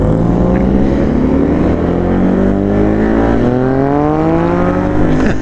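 A Yamaha XSR900 motorcycle revs and pulls through the gears on a ride, its loud, close engine note climbing in pitch as it accelerates, then shifting and climbing again.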